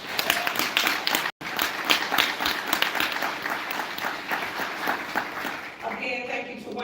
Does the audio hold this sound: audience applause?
yes